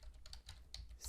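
Code being typed on a computer keyboard gives a short run of quick, soft key clicks, close by and fairly quiet.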